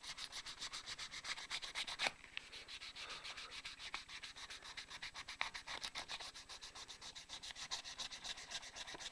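Fast, even back-and-forth rubbing of 1200 grit sandpaper by hand on a fanned fret guitar headstock, a soft close rasp that keeps a steady rhythm throughout.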